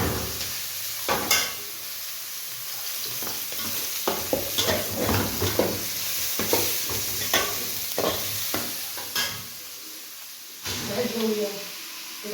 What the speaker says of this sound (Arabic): بحب كده اهيت، هنشوحها في البصلة كده. بحب اشوحها في البصل